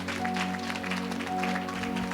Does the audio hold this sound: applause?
yes